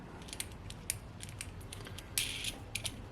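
Nuts being tightened by hand on a homemade kayak camera mount, giving faint, irregular clicking and ratcheting ticks in a quiet setting with no talk.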